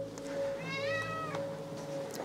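A single drawn-out cat meow, close and clear, rising then falling over a soft steady hum in a quiet room.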